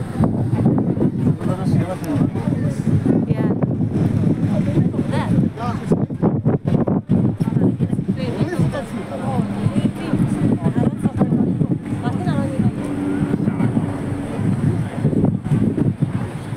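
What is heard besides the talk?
wind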